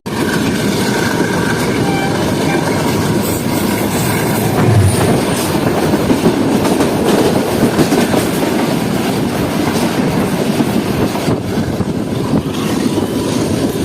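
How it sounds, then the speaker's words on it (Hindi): The 152 Down Shah Latif Express rolls along near Karachi, a loud continuous rumble of wheels with rhythmic clickety-clack over rail joints and occasional metallic squeals, steady throughout. "तो दोस्तों, ये थी 152 डाउन शाह लतीफ़ एक्सप्रेस"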